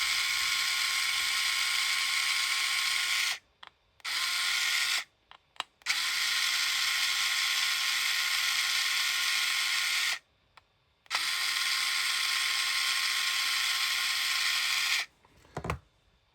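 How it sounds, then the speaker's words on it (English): An electric driver undoes four bolts on an SRM Emulator V7 Pro unit, sounding as several loud, steady whirring bursts of a few seconds each, broken by short pauses between bolts. "I'm going to use an electric driver just to speed things up"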